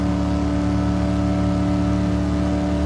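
A Pontiac Firebird Trans Am engine in Gran Turismo 7 holds a steady, loud full-throttle drone on the Nordschleife, with strong sustained harmonic tones and no break or talk.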